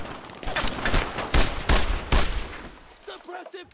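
Gunfire in the World War II shooter Brothers in Arms, a loud, close volley of overlapping rifle and machine-gun shots in several bursts, with shouted voices mixed in toward the end.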